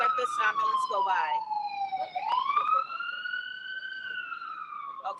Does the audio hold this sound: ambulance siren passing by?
yes